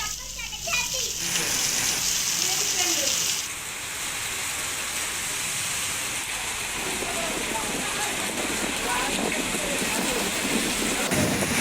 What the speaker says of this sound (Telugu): వర్షం కురిసింది.